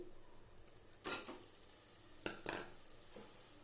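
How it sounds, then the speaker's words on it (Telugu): Masala frying in a pan and being stirred, with a few short, quiet scraping strokes and a soft sizzle at low volume, with no one speaking. "మసాలా అంతా వేగిపోయిందండి"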